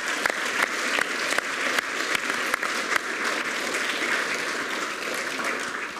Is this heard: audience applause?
yes